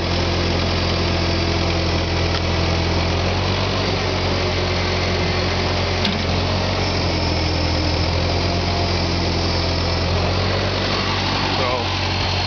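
A tractor engine idles steadily and loudly up close, a constant low rumble with vibration running throughout without pause.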